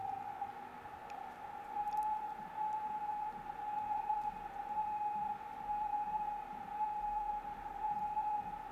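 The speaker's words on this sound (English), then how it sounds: "A radio signal being sent out by that spacecraft and picked up by that telescope at Jodrell Bank." Archive radio signal from the Luna 2 spacecraft in 1959, picked up by the Jodrell Bank telescope: a steady, unbroken electronic tone over a faint hiss, alone and fairly quiet throughout.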